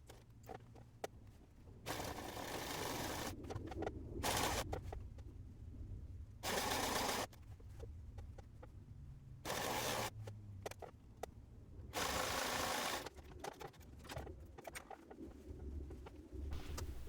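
A sewing machine joins the sleeve of a woven t-shirt in several short bursts of quiet, even whirring, broken by pauses and small handling noises.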